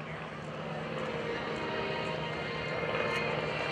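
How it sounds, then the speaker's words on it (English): A fragile Curtiss Pusher replica, an early open-frame propeller aircraft, drones steadily as it flies over at an airshow, its engine hum fairly faint and continuous against the broad crowd and field noise. "The fragile aircraft you see going over to the left now, that Curtis Pusher replica"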